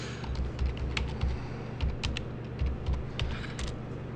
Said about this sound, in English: I just typed it in.